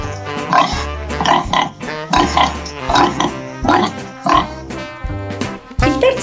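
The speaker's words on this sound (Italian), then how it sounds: "Il terzo verso, di chi sarà mai? Di un uccellino o del maiale? Bravissimi! Del maiale!" A pig oinks loudly and close, a series of about eight nasal grunts in uneven bursts, with short pauses between them and no talking.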